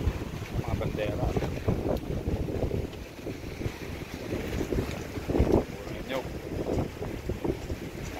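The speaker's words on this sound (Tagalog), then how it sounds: "Ano yan, lakas ng hangin no?" Strong seaside wind gusts in a steady roaring rush beside a wooden boat (bangka) under repair, with flags whipping and waves nearby, buffeting the microphone loudly throughout, with faint voices at times.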